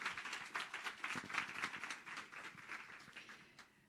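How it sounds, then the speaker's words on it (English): A campus event audience gives a faint, distant round of applause, a dense patter of many hands that slowly thins out. "we need another round of applause for being here today"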